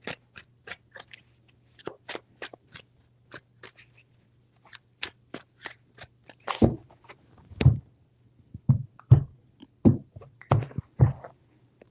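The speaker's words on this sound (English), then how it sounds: "3 shuffles." Cards being shuffled in a series of short, crisp riffles and slaps, with a few heavier thumps toward the end, close by and with no talking.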